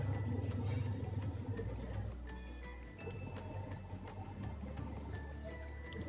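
Sewing machine stitching the sleeves of a jean top, a steady mechanical whir with low motor hum and faint clicking that runs continuously and fairly quietly throughout, with no talk.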